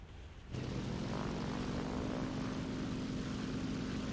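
The propeller engine of a Focke-Wulf FW-190 F-8 fighter plane in War Thunder surges in abruptly after a brief hush, then holds as a steady droning hum with no voices.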